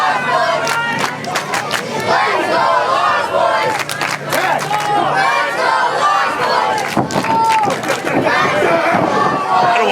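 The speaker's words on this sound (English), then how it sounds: "I don't want to talk over the chanting because it's pretty cool" An indie wrestling crowd chants and shouts loudly in rhythmic bursts, filling the venue with roaring voices and scattered cheers throughout.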